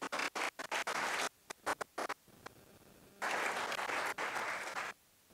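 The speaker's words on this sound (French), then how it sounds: "dirigé par Élodie Bia, que vous pouvez applaudir parce que c'est pas facile" Faint, choppy audience applause at a talk on regenerative business comes in short bursts, then swells into a longer stretch of clapping before fading.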